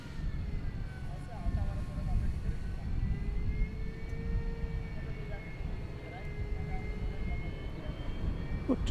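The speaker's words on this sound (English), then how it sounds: "Look just a little more at the cargo going out of the 747 here" Boeing 747 cargo jet departing at night at Dallas Fort Worth airport, a steady distant jet roar with whining engine tones holding over a broad rumble throughout.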